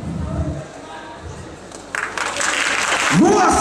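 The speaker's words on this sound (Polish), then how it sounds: "wielki brawa!" Applause breaks out at a sports event in Ustroń, starting around the two-second mark after a stretch of someone talking, then building into a fuller crowd clap as the voice continues over it.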